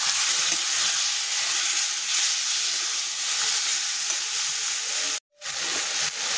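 Chopped leftover chicken pieces sautéing in a pan, a loud continuous sizzle and hiss that cuts out briefly near the end before resuming.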